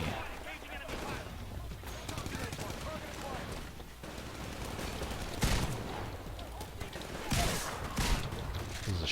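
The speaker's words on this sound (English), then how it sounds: "This is a shotgun." Shotgun blasts in the multiplayer shooter Titanfall, Attrition mode, several sharp loud bursts at irregular intervals over steady game noise and a talking player.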